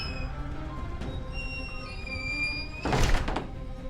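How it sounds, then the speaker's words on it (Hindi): A storeroom door swings open by itself in a dark, tense scene. A single heavy thunk and creak sounds near the end over a low, droning background. "फिर स्टोर रूम का दरवाजा खुद खुल गया।"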